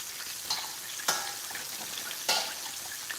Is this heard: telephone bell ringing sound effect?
no